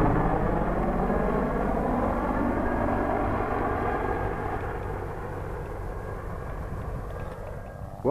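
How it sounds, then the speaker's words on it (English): Helicopters fly overhead above a field where people are metal detecting, giving a loud, continuous rotor and engine drone that slowly fades as one passes. "getting buzzed by helicopters from all sides"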